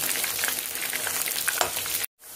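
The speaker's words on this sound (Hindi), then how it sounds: "अब इनको 2 मिनट तक फ्राई करेंगे अच्छे गोल्डन होने तक" Soya chunks deep frying in hot oil give a steady, dense crackling sizzle that runs without pause, then cuts off abruptly near the end.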